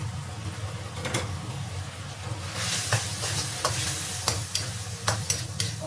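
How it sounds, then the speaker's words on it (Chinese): Scrambled egg tossed with sauce in a wok, a continuous low sizzle under repeated sharp scraping strokes of the spatula against the metal, near and moderately loud. "继续翻炒。"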